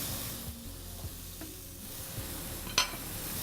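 Salmon grilling in a pan, a faint steady sizzle with a few light clicks and a sharp tap near the end, no talking.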